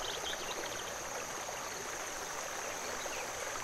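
A brook in the video game The Night of the Rabbit gurgles and rushes in a steady, continuous wash of flowing water with no speech.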